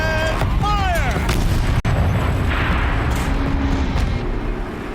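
A gun turret fires in the video game Horizon Zero Dawn: a loud, dense barrage of booming blasts and rumble, with a sharp crack in the middle and whining sweeps early on.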